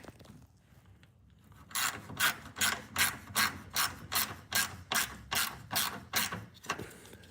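A wrench ratchets a bolt down by hand until snug, producing about fourteen evenly spaced clicking strokes that start after a quiet moment and continue steadily, close and alone.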